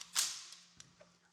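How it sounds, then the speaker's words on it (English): Beretta 1301T shotgun having its chamber, lifter and follower checked, giving one sharp metallic action clack followed by a few faint light clicks, close up, with no talking. "So we're going to check the chamber, check the lifter, check the follower, make sure it's empty."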